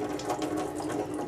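Water runs steadily from a bathroom tap in a close, even stream that splashes into the sink.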